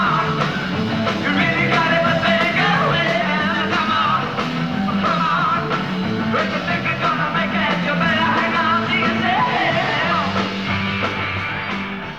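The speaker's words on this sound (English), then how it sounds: "audiences were screaming." Dense crowd roar and screaming from a packed audience at a concert, loud and sustained throughout with music mixed underneath.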